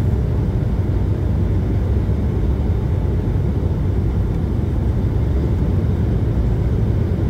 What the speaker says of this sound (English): The plane came in for a direct landing.